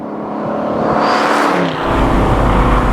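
A 1967 Ford Mustang restomod engine revs up to about 3,000 RPM, rising in a loud close-up snarl that climbs and then settles into a deep, steady rumble.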